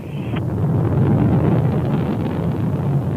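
Rocket engine thrusters roar during a Soyuz MS-17 launch in the Spaceflight Simulator game, a steady, loud broadband rumble that holds without a break throughout.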